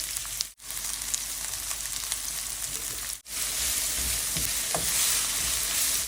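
Onions fry in a pan for a dried fish curry: a loud, continuous hiss of hot oil, broken by two brief gaps, with faint stirring touches.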